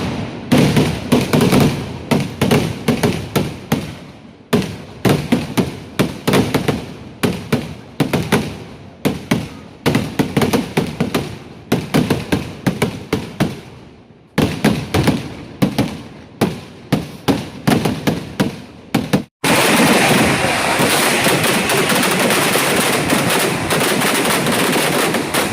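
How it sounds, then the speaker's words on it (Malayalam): Fireworks at a church feast in Kerala, a long rapid barrage of sharp cracks and booms in dense bursts with brief pauses, ending in a continuous rumbling roar of overlapping explosions. "പിന്നെ അവിടെ നിന്ന് അങ്ങോട്ട് മനോഹരമായ വെടിക്കെട്ട്."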